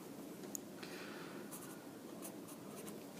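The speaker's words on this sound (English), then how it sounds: "Let me just write that on my diagram here." A pen scratches across paper while a trigonometry diagram is marked up, soft continuous close-up strokes in a quiet room, with no talking.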